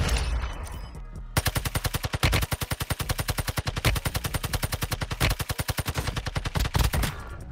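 Automatic gunfire from Warzone Mobile empties an entire magazine in one long, rapid, evenly spaced burst of loud shots that runs for several seconds without pause.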